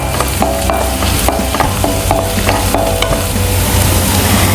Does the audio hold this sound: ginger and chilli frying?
yes